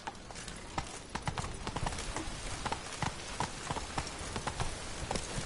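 Roach, the horse in The Witcher video game, trots with crisp, close hoof clip-clops in a quick, even rhythm over a dense background wash.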